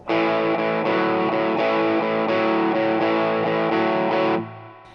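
Distorted electric guitar blues riff with a repeating rhythmic pattern of chugging chords, loud and close with effects-processed tone, played alone before ringing out and fading at the end.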